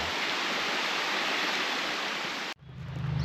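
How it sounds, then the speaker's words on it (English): A park waterfall in Helen, Georgia roars as steady, broadband rushing water close by, cutting off abruptly near the end to a quieter background. "Okay, it does have a waterfall."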